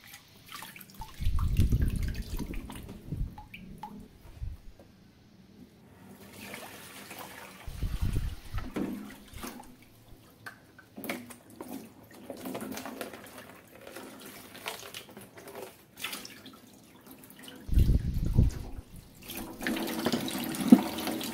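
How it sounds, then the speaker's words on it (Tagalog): Tap water runs into a sink in short loud bursts while dishes are washed by hand, with clinks and soft handling of plates between the gushes at home after lunch. "Hindi ko mabilis ako maghugas ng pinggan."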